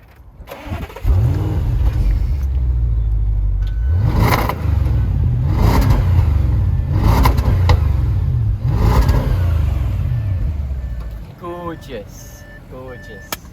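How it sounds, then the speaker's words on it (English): A 2015 Audi S8 engine cranks and fires at about one second, then settles into a steady, close idle with repeated swells of revving; a voice talks briefly underneath before the sound trails off near the end. "let's hop inside this car and give it a drive"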